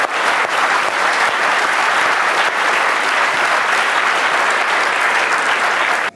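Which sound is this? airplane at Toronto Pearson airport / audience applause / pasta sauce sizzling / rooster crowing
audience applause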